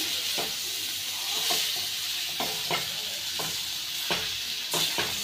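Fansachi bhaji with turmeric stirred in a frying pan: a bright, hissing sizzle fills the clip while a spatula scrapes the pan in a loose rhythm of six or seven strokes, close and with no voices.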